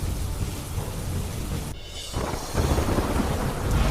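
Heavy rain pours down steadily in rural Umarpada, Surat district, with deep rumbling thunder under it. There is a brief lull in the middle before a loud downpour resumes.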